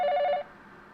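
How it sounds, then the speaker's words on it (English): A telephone rings in the video game 428 Shibuya Scramble: one short electronic ring with a fast warbling trill, loud and alone, cut off abruptly after less than half a second. "The phone rang, cutting him off before he could get down to business."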